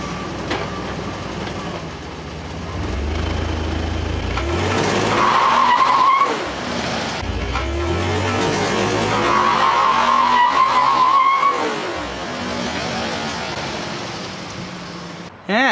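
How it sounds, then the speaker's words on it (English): Car tires skid on dry pavement while the car backs out of a driveway. Two separate screeching skids come loud and close over engine rumble. "Look, I left 2 skid marks. And it was dry out."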